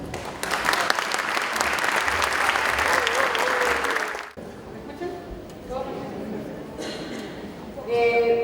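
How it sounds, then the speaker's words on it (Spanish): Loud applause from the audience at a school anniversary ceremony carries on for about four seconds, then breaks off, leaving room noise and a few scattered sounds. "Recibimos con un fuerte aplauso a la doctora Carola Muñoz Montesino"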